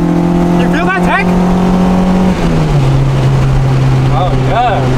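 A Honda Civic with a catless long tube header and full exhaust revs and accelerates hard, its loud, droning engine note climbing then dropping to a steady lower pitch as it shifts, with brief higher whines over the top.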